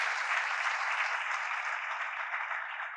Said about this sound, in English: Can we have a round of applause for the great doctor?